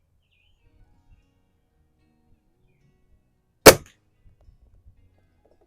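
Air Arms TX200 air rifle firing a single shot outdoors while plinking, one sharp crisp crack in near silence, followed by a few faint small ticks.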